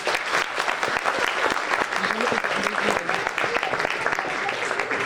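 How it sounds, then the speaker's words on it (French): Audience applause at a film festival screening event in Mantes, a dense sustained clapping from a seated crowd, fairly close and even, with some voices mixed in underneath. "On peut les applaudir."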